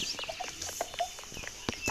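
Chicken clucking in the Roblox game Mad City, a string of short bird calls at moderate volume over faint game background noise.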